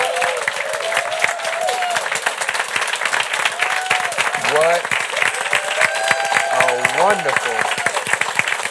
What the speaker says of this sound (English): turn to our family members on stage and give a round of applause